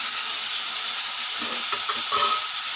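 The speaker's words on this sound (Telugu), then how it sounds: "మళ్ళీ అదే కడాయిలో కొంచెం ఆయిల్ పోసుకొని టమాటాలు వేసుకుంటున్నాను" Tomatoes fry in a little oil in a kadai, a steady broadband sizzle with a few stirring scrapes and clicks near the end, close and alone.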